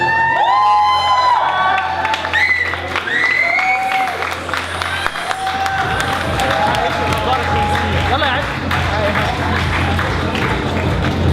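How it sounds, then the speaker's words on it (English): Applause and cheering for models walking at a university Eid party, a crowd clapping and whooping steadily throughout while a host speaks over the noise at the start. "So a loud round of applause for these guys,"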